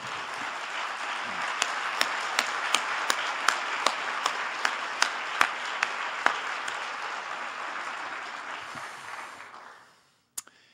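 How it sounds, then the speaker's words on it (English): An audience at a lecture gives sustained, even applause for about nine seconds, with a few sharper claps standing out before it fades to silence and one last clap. "to receive the applause of appreciation from our colleagues who are gathered here"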